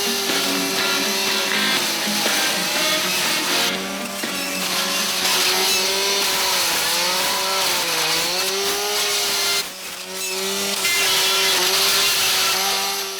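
A chainsaw roars loudly and continuously, its engine pitch rising and falling as it revs, with a brief dip near the end before surging again.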